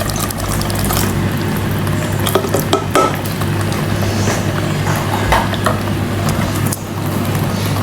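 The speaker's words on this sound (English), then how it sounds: "And then stir it till thoroughly combined." Fish and a pepper mix are stirred in a pan, giving soft, repeated scraping and sloshing sounds with a few light clinks, steady and close with no talking.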